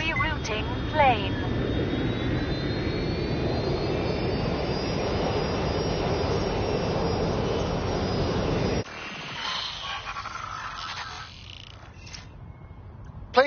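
In the video game Watch Dogs Legion, an airplane's engine drones in a loud steady roar with a thin high whine, then cuts to a quieter interior ambience; a voice speaks briefly over it.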